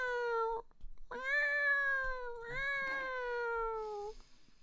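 A person's voice imitates a cat, producing two long, clear meows close up, each held and gently wavering before trailing off, with a brief gap between them.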